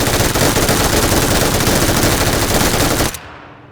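Automatic rifle fire in the battle game PUBG plays as a loud, rapid, continuous burst of gunshots lasting about three seconds, then cuts off abruptly into near silence.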